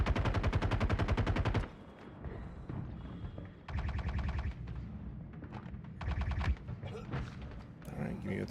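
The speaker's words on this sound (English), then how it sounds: "Where am I getting shot at from?" Star Citizen weapon fire opens with a loud, rapid automatic burst, followed by quieter, scattered short volleys and thuds trading back and forth, some of them distant.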